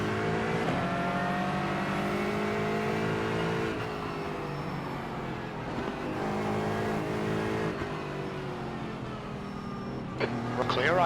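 GT4 race cars lapping Zandvoort in iRacing, engines droning and shifting pitch continuously with close-quarters running, a driver's voice talking over the steady roar throughout.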